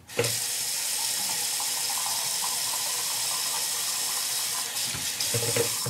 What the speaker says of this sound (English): I'm in the bathroom, yeah. I'm gonna wash my hands.